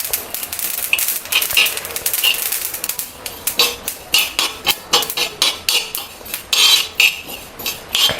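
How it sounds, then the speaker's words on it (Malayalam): Sesame seeds roasting in a hot pan, crackling and popping in dense clusters of sharp, bright little snaps that come in bursts throughout, close and fairly loud with no talking. "അത് നമ്മൾ ഇട്ട് കഴിയുമ്പോഴേ ഇതുപോലെ ഇങ്ങനെ നന്നായിട്ട് ചട്ടി ചൂടായി ഇരിക്കുക ആയതുകൊണ്ട് തന്നെ നന്നായിട്ട് പെട്ടെന്ന് ഇങ്ങനെ പൊട്ടി ഇങ്ങനെ വരും"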